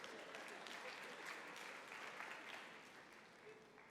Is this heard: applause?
yes